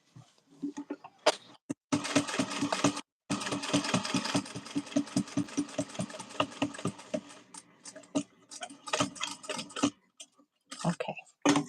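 A domestic sewing machine stitching a back window lining, running in fast rapid-fire bursts of needle clatter with brief pauses between runs, close and prominent.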